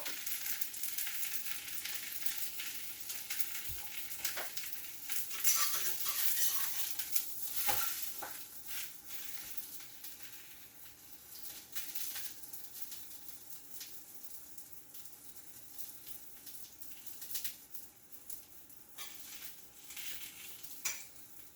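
Water parsley and chive pancake frying in a pan, a steady close sizzle and crackle of oil with occasional soft scrapes and clinks of a utensil against the pan.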